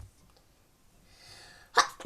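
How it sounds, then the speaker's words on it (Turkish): After a quiet stretch with a soft inhale, a single sharp sneeze bursts out close by, followed by another abrupt burst at the very end. "Çok yaşa şey arkadaşlar hapşırdım ya."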